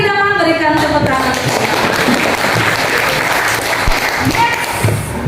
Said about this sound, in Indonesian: Oke, terima kasih Idaman, berikan tepuk tangan.